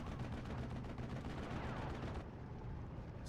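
A Maxim machine gun in the WWII strategy game Steel Division fires in a dense, continuous burst of rattling shots. The burst drops in intensity near the end.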